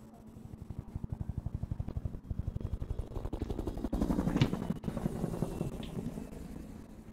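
A helicopter in a video game, its rotor a fast, even chop that holds steady and then swells louder midway, with a few sharp bursts on top, and no talking.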